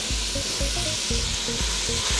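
Potatoes frying in a pan with bay leaves, a loud steady sizzle close up with rhythmic stirring scrapes and clunks.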